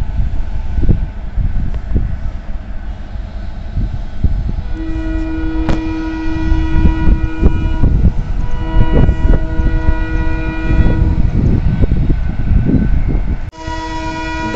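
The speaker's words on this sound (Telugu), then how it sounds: "గేట్ పడింది, మనకు ట్రైన్ హార్న్ వస్తుంది, బహుశా మీకు వినిపించచ్చు." Dadar–Kazipet express train arriving near a railway level crossing at Karimnagar station, heavy rumbling wheels and rolling wagons, loud and near, with a long sustained horn blast through the middle and a second horn near the end.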